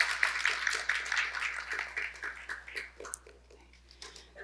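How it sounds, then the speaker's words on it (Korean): Audience applause at a ceremony of the 2024 Autism Eeum Festival, moderately quiet and steady for several seconds, fading slightly toward the end with no talk over it. "큰 박수 부탁드립니다"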